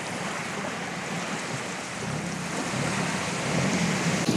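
Beach waves wash steadily on a white-sand shore in Phuket, a soft continuous surf hiss that swells slightly toward the end with some wind.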